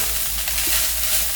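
Coconut rice sizzles steadily in a hot pan as it is stirred, a loud, close, continuous frying hiss with faint scrapes of the utensil and no talking.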